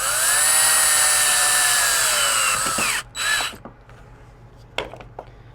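Power drill driving a pocket hole screw into a wooden joint, a steady high whine for about three seconds that bogs down as the screw seats, then a short burst and a few clicks.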